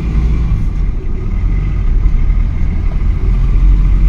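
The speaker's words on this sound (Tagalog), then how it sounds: "medyo maingay yung makina ni sir. Yung parang may butas yung tambutso niya." A loud, steady Mitsubishi Adventure engine rumble, deep and noisy, droning continuously without pause as if the exhaust were leaking.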